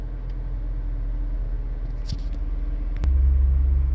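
A 2013 Ford Escape engine idles with a low, steady rumble after a push-button start, a brief click partway through, then the engine note rises and grows louder near the end.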